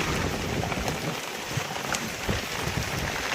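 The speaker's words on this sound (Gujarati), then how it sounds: "બાકી વરસાદ તો બહાર તમે જુઓ ફૂલ વરસાદ પડી ગયો" Heavy rain pours outside a vehicle and is heard from inside it: a dense, steady wash of drops drums on the body and roof, loud and continuous with no talking.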